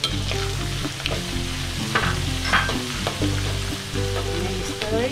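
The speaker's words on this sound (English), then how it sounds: "And then stir it. And you stir it until the garlic is brown and fragrant." Garlic and chilies stir-frying in a pan for steamed fish with preserved radish, a steady loud sizzle broken by repeated scraping stirs and clinks of a utensil, with tonal background music running underneath.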